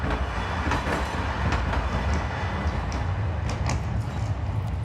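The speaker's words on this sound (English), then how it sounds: "Train." A train rumbling past nearby, a loud continuous roar with faint rhythmic clatter and squeaks throughout, no voices.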